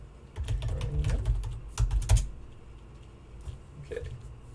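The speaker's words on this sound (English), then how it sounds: "Test for typing." Computer keyboard typing in a quiet room, a few quick bursts of clicking keystrokes, fairly close and moderately loud, with pauses between bursts.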